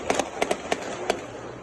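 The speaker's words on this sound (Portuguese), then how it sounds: "novamente é possível ouvir diversos disparos" Gunshots ring out during an exchange of fire between robbers and police, a rapid series of about six sharp cracks in uneven bursts, heard from some distance over faint background noise.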